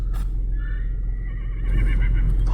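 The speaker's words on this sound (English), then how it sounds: "Oh, there's a horse." Out on a ranch-like stretch of park land, a horse gives a drawn-out whinny at moderate distance, heard over steady low rumble of wind or a running vehicle, with no one talking.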